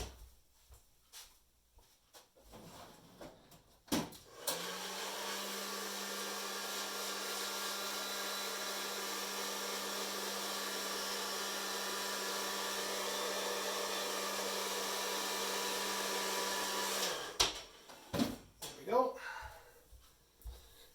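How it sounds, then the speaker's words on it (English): A heat gun blasts steadily for about thirteen seconds while drying paint on 28mm miniature bases, a loud even roar with a low hum. Brief handling noises sit before and after it. "I'm going to heat gun on these."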